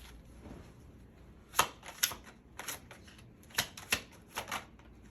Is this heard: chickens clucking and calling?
no